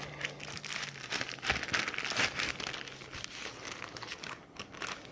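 A cut plastic bag of frozen feeder rats crinkles and rustles as it is handled up close, with continuous crackling and crumpling for several seconds and no talk.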